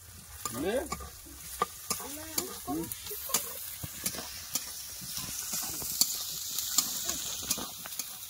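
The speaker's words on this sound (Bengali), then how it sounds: "আদা রসুন কাঁচা গন্ধ কষে নেবো ভালো করে।" Ginger-garlic paste and chopped onion fry in hot oil with a steady sizzle, while a spatula scrapes and stirs the pan in repeated close, rhythmic strokes.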